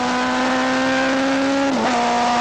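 Loud, continuous engine howl from a 1979 superbike racing up a hill, the steady high drone dipping briefly as it shifts before climbing again, close and with no voices.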